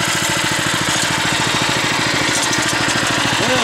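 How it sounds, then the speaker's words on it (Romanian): A tractor engine running near the Teleorman river in Romania, a loud, close, steady chugging with fast even firing pulses and no pauses throughout. "Uite tractorul."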